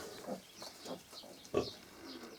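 Hungry piglets on a small pig farm grunt and squeal for food while the sow holds back, giving several short close grunts and one sharper, louder squeal near the middle.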